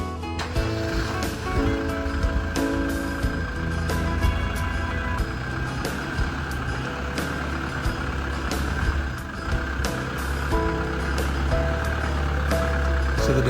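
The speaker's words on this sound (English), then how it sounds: "So the Defender now starts, runs and drives" Land Rover Defender 110 under restoration, its engine running steadily with a continuous low rumble and mechanical clatter as the vehicle drives, loud and close throughout with no talk.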